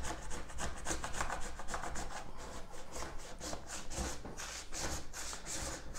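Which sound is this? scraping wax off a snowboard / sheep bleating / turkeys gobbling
scraping wax off a snowboard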